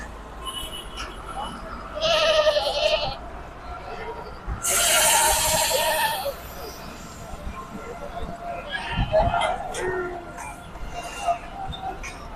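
Goats and sheep bleat in short bursts at a crowded goat and sheep market in Uttara's Sector 18, with people talking and general crowd noise throughout.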